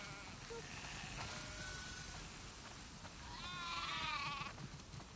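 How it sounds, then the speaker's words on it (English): Several sheep bleat in a video game, The Last of Us Part II, over a steady background hum, a wavering chorus of calls swelling louder toward the end. "Wow, that's a lot of sheep."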